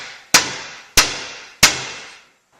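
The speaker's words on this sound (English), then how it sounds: "You can just use your old axe handle for this and seat the wedge." Three sharp, evenly spaced strikes of an old axe handle driving a wedge into an axe head during a handle repair, each a loud close crack with a short ringing decay.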